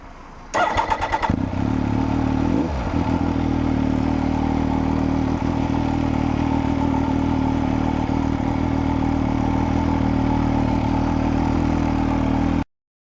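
A motorcycle engine cranks and catches with a brief clattering burst, then settles into a steady, close idle that runs unbroken for over ten seconds before stopping abruptly.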